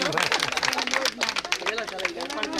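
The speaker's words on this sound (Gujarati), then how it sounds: "તાળીઓથી વધાવો." An audience honouring Arunaben at a cow-shelter service event breaks into a burst of close, brisk clapping mixed with crowd chatter and voices.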